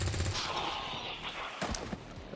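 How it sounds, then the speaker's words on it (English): A gunshot aimed at a trooper in the video game XCOM 2, a sharp report followed by a short burst of rattling fire and impact noise, fairly loud with no talking. "Take this cheeky shot on that trooper."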